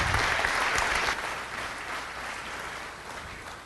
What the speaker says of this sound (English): Again, another round of applause for our athletes.